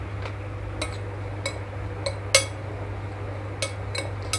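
Metal spoon clinking against a bowl while rajma salad is mixed with cumin powder and salt, sharp scattered taps at an irregular pace over a steady low hum.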